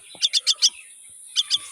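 A pet myna bird perched on its owner's hand chirps close by in four quick bright calls, falls silent briefly, then gives two more.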